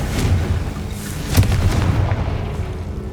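Booming spell blasts in the Hogwarts Legacy video game, a Confringo fire explosion with a heavy low rumble and a sharper burst midway, set among layered game effects and no talk.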